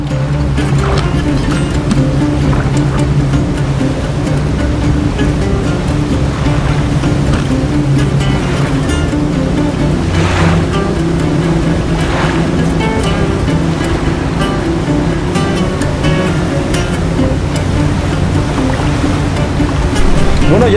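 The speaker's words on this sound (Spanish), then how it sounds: "ya estoy a bordo de la lanchita para dar el paseo aquí sobre la presa" Small motorboat running across a reservoir at Presa Madhó Corrales in Alfajayucan, Hidalgo, a steady close engine drone with water rushing and splashing against the hull, continuous and loud throughout.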